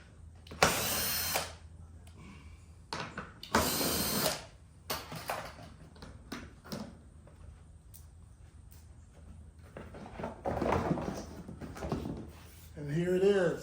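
Power tool removing 10mm bolts from the front bumper of a Tesla Model X, with short whirring bursts separated by pauses and handling noise, and a voice speaking between bursts.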